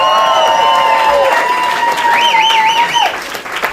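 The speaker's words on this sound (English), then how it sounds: "give everybody a round of applause" A crowd at an election night campaign event applauds loudly nearby, with cheering and wavering whistles rising over the clapping before it thins out at the end.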